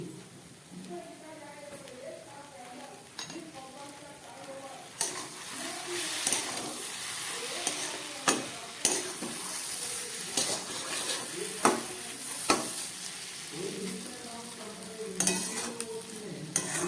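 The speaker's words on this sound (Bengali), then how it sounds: "এবার দিয়ে দিচ্ছি একটু ঘি।" Ghee and garam masala sizzling in a pot of tarka dal as it is stirred, with constant frying hiss, clanks of a spoon against the pan and a voice talking over it.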